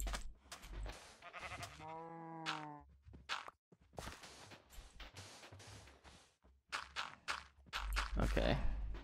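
A sheep bleats in a short wavering cry amid clattery Minecraft game sounds and footsteps, with a person talking before and after.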